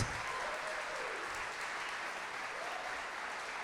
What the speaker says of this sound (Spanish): Así que este aplauso nuevamente es para todos esos padres.